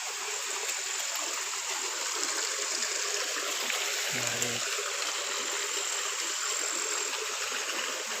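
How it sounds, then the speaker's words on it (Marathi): Water flowing steadily at Sapteshwar temple in Sangameshwar, where streams are said to join, gives a constant, close rushing murmur with no breaks. "सात नद्यांचं पाणी आहे ना एकत्र मिळून त्याच्यामध्ये पाणी येतं"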